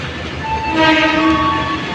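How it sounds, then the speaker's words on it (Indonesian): A passenger train pulls into a station near Merak, Banten, its loud horn holding a steady tone over a continuous rumble of rolling cars, close and unbroken for the whole stretch. "inilah kereta yang akan membawa saya beserta keluarga menuju stasiun Merak"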